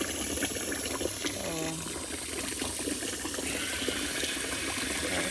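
Water runs steadily into a portable mini washing machine as it nears the fill line, a continuous close splashing and trickling with faint mechanical clicks and indoor background noise.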